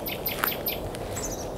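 Small birds chirp and tweet in short, bright bursts against a steady natural outdoor background, the calls faint to moderate and scattered across under two seconds with no voices.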